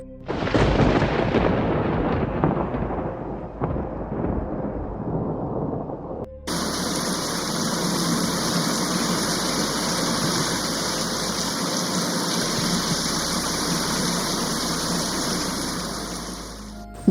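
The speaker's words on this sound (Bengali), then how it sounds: "বুক কাঁপানোর শব্দে মেঘ ডেকে উঠল বাইরে। বৃষ্টির শব্দ কয়েক গুণ বেড়ে গেল।" A loud roll of thunder booms and slowly fades, then heavy rain pours down steadily and densely for the rest of the time, a continuous hiss with no voices.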